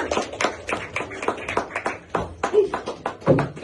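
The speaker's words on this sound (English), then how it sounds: "round of applause" Applause rises from a comedy club audience as a set ends, with scattered uneven claps and sharp taps that come in bursts rather than a full steady ovation.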